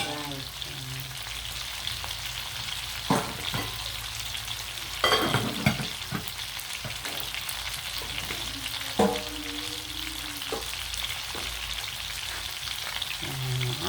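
Meat sizzles and spatters steadily in a pan, with scattered utensil scrapes and clanks from stirring and faint background voices now and then.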